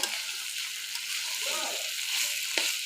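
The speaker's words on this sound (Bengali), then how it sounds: "ভেজে নেওয়ার পালা তবেই শেষ হয়ে যাবে আমার মোচার ঘন্ট চিংড়ি দিয়ে" Banana flower and river prawns fry in a pan with a steady, bright sizzle. The hiss stays close and constant, and a voice murmurs faintly underneath.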